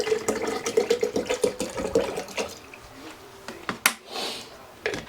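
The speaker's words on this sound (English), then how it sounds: "Let's put the rest of the water in." Water is poured into a container for an Uncle Josh BBQ sauce chicken preparation, making a brief gurgling fill with a rising tone, followed by clunks, handling noises and a few quieter splashes.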